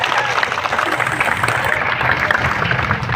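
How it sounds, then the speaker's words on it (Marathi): An audience at a public gathering claps together in tribute to Shaheed Bhagat Singh, a steady moderate patter of many hands with a voice talking over it. "शहीद भगतसिंगांना आपण सर्वजण टाळ्या वाजून येतो अभिवादन"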